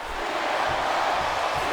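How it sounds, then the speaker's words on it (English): Steady crowd roar in a WWE SmackDown wrestling video game, a continuous wash of cheering noise that holds at an even level through the short stretch with no distinct voices standing out. "I think these superstars are getting some feedback from the crowd"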